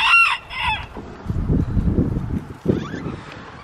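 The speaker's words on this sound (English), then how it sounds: "Come on, chickens!" Backyard chickens crow and cluck loudly and close by in short bursts, followed by a low rustling rumble with no talking.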